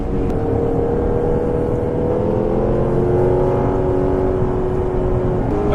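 A 2015 Lexus RC F engine, its sound artificially augmented, drones loudly and steadily from inside the cabin on a racetrack, its pitch holding and slowly shifting as it pulls along.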